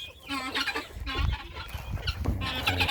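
Chickens cluck busily inside a coop with goats during late winter. Several birds make overlapping calls that run steadily and close by, with no one speaking.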